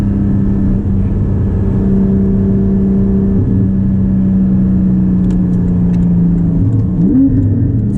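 A Porsche 718 GT4 with a manual gearbox drives along with its engine droning steadily, pitch rising and falling through revs and a shift near the end, close and loud with no talk.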